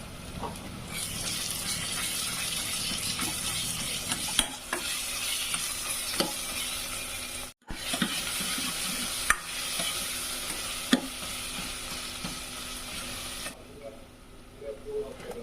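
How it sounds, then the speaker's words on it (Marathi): A spoonful of ginger-garlic paste fries in a pan for a chicken curry, giving a loud, constant sizzle while it is stirred. It breaks off for a moment once, and then the frying fades near the end. "इथे एक चमचा आलं लसूण पेस्ट टाकते"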